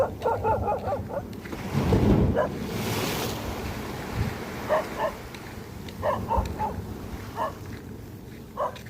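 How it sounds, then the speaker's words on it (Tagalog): Steady roar of strong surf washing against the shore at Baler, with a dog barking in short bursts over the waves. "Malakas ang hampas ng tubig."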